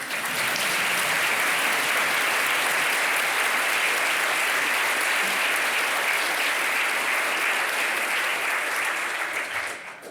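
Sustained, even applause from an audience at the RCSI Primary Healthcare conferring ceremony, dense clapping from a large crowd that holds steady for about ten seconds before easing off.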